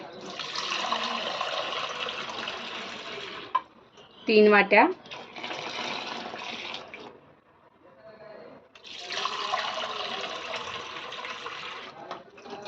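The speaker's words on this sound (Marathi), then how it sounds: "मी आता ह्याच तीन वाट्या आपल्याला थंड पाणी घालून घ्यायचं आहे" Three cups of cold water pour into a bowl in steady, rushing streams, in three long stretches, with a short spoken phrase in between.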